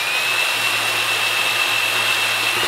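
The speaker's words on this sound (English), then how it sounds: "then I drill a pilot hole" A power drill whirs steadily at close range, drilling a pilot hole in a plywood strip canoe, a continuous high-pitched motor whine with no pauses throughout.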